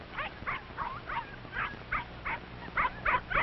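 Several puppies yip and whimper in quick, uneven bursts as they squabble, close by and fairly faint, with short gaps between the cries.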